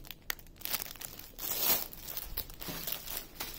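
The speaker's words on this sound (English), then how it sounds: "and then there's cellophane, more cellophane" Cellophane packaging crinkles and crackles as it is unwrapped from a diamond painting kit, in close, continuous bursts of rustling with a louder stretch midway.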